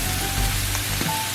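Fish cake and shiitake mushrooms sizzle steadily in a hot pan, a close, continuous hiss with no talking over it.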